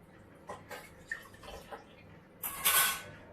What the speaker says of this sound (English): Just rinse that off so that smell doesn't linger.